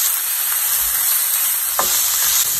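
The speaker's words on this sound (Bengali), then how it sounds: "তেলটা গরম হয়ে গেছে, আমি পেঁয়াজটা দিয়ে দিব।" Chopped onion hitting hot oil in a pan over medium heat, making a loud, steady, close sizzle and hiss that runs the whole time, with occasional stirring scrapes.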